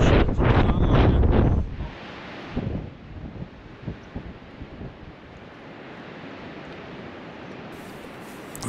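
Strong wind buffets the microphone beside a fishing lake at a Danish fishing park, heavy gusts at first easing into a steady rushing roar that continues without talk.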